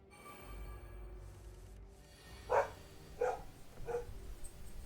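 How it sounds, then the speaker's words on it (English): A dog barks three times, fairly distant and muffled, with short sharp yelps spaced about a second apart over quiet background. "Why is my dog barking?"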